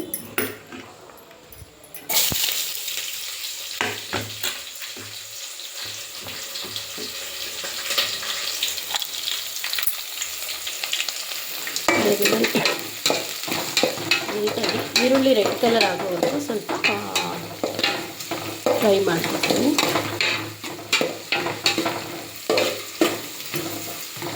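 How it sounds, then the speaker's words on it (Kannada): Two chopped onions dropped into hot tempering oil in a cooking pot for avarekalu sambar, a loud steady sizzle with repeated stirring and scraping of a utensil against metal, building after a short quieter start. "ಎರಡು ಈರುಳ್ಳಿ ಕಟ್ ಮಾಡಿ ಇಟ್ಕೊಂಡಿದ್ದೀನಿ ಅದನ್ನು ಕೂಡ ಇವಾಗ ಒಗ್ಗರಣೆಗೆ ಹಾಕ್ಕೋತೀನಿ"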